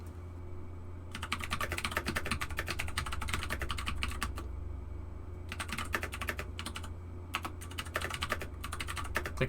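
Computer keyboard typed on rapidly in close, steady bursts of clicking keys with brief pauses, over a constant low background hum.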